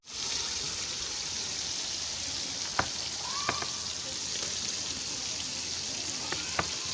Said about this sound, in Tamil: வெங்காயம் கொஞ்சம் நல்லா வறுத்துக்கலாங்க.